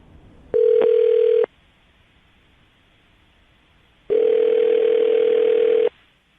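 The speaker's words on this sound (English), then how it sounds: "I'm going to dial the phone number, see if we can get him on the phone" A telephone dial tone sounds briefly, then after a pause a longer steady electronic tone follows, clear and alone with no talking.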